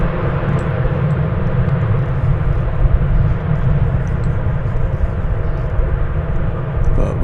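An airliner arriving from Japan touches down at DFW Airport, its engines making a loud, continuous roar and rumble heard up close, with faint talk in the background.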